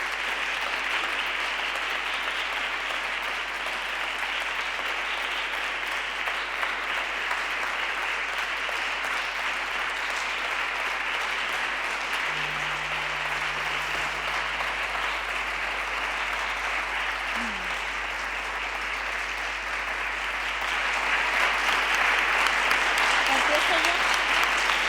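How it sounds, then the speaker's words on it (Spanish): A hall audience applauds the recipients at the Ignacio Ellacuría award ceremony for the Asociación Madres de Abril and the Articulación Feminista de Nicaragua, a dense, sustained clapping that runs loud and steady throughout and swells near the end. "Un aplauso para ellas."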